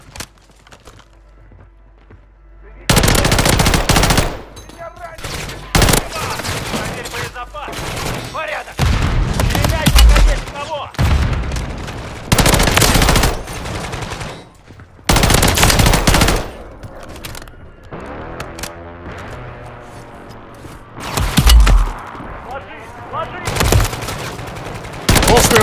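Heavy minigun bursts in Call of Duty: Warzone, loud sustained rapid-fire volleys repeating across the span with short pauses between, over faint background game sounds.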